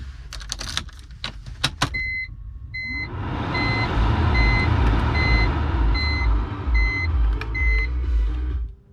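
A 2000 BMW 323i engine cranks and starts after a few clicks and key sounds, then settles into a steady, close idle while repeated warning chimes beep above it.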